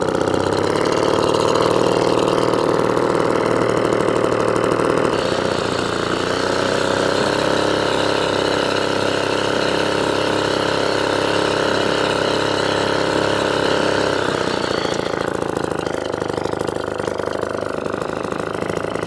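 A vintage Atco kick-start lawn mower with a Villiers Midget engine runs steadily and loud throughout, its close, even idle note shifting slightly in pitch partway through and again near the end, with no talking.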